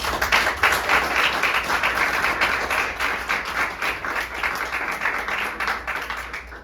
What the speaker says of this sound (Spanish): Un aplauso para Pau.